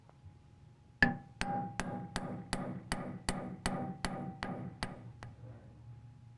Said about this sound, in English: Lay a piece of annealed wire in the groove and strike it with a planishing hammer.